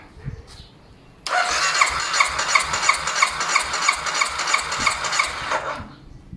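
A motorcycle engine cranks over with the throttle closed during a compression test, a loud, steady, rhythmic churning with regular pulses that runs for about five seconds after a quiet start.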